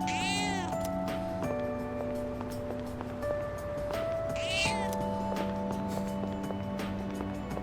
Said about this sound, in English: Familiar looking cat.